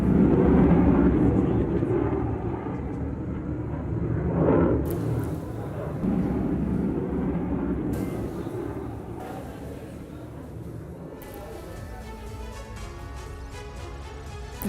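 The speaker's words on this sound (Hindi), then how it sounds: "यूक्रेन के सुखोई 27 ने कुर्स्क में कम ऊंचाई पर उड़ान भरी।" A Ukrainian Sukhoi Su-27 fighter jet flies at low altitude over Kursk, its engine a broad sustained roar that swells and fades over several seconds, mixed with news-broadcast sound.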